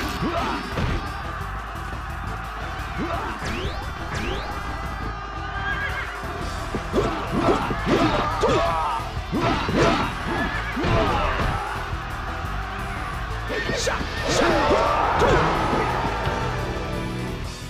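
Horses neigh and whinny in the Dynasty Warriors 2 video game, several loud whinnies standing out over hoof clatter, clashing combat hits and a steady game soundscape.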